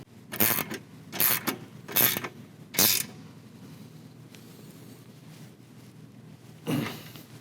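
Ratchet wrench tightening 16 mm nylock nuts while fitting an Ironman 4x4 Raid front bumper to a RAM 1500 DT: four loud bursts of clicking in quick succession, then a pause and one more burst, close up with no talking.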